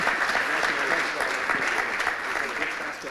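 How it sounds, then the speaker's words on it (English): Sustained applause from an audience at a chamber of commerce speaker event, a dense steady wash of clapping lasting throughout at fairly close range. "So again, a big round of applause, please, for Patrick, who did a fantastic job."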